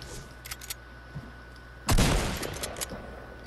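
Fortnite gunfire in a zone war match: a few faint pops early, then a loud burst at about two seconds that tails off into scattered shots.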